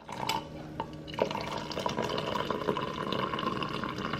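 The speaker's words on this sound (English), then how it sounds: "I'm gonna go ahead and pour it and taste it out in my little handy dandy mug right here" Hot cider poured from a pot into a mug indoors, a close, continuous liquid trickle and splash with a few clinks of the vessel, and no talking.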